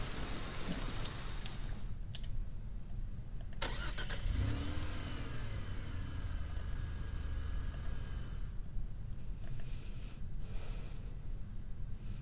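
A car engine drones steadily through the whole stretch, close and continuous, under heavy rain hammering on the body, with a couple of brief knocks and a low rumble midway.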